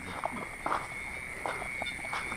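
Frogs croak near a rice-field hut, a few soft scattered calls over a steady insect hum, faint and with no talking.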